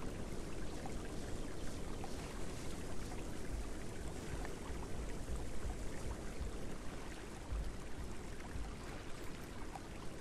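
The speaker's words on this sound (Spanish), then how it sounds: "Vamos a beber agua." A baby T-rex in the Path of Titans game drinks water, a steady splashing, gurgling lapping that runs evenly and fairly close for about ten seconds with no talking.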